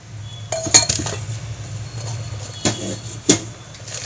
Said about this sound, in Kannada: ಸೊ ಅಷ್ಟರಲ್ಲಿ ಪಾತ್ರೆ ತೊಳೆದ್ಕೊಟ್ಬಿಟ್ಟು ಪಾತ್ರೆ ತೊಗೊಳ್ತೀನಿ